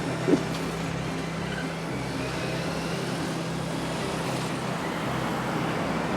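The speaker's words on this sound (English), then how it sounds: "I'm literally filming a cement truck." A cement truck idles in Paris street traffic, its steady low engine rumble running continuously beneath a broad wash of road noise, with no voices present.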